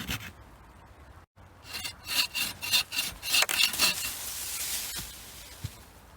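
A hand saw undercuts a large tree branch with a run of rhythmic rasping strokes, each a close, scratchy back-and-forth rub, building after a brief pause and then fading into softer scraping.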